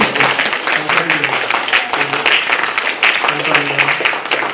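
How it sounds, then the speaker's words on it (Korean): A church congregation gives sustained welcoming applause, a steady wash of clapping from many hands, with a voice speaking faintly underneath. "우리 좀 환영의 박수 좀 보내드릴까요?"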